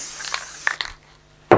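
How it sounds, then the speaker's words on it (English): Spray tack adhesive is lightly misted onto carbon fibre cloth, heard as a few short, soft hissing bursts followed by one louder, close spray burst at the end, with no talking. "Another light application of the spray tack"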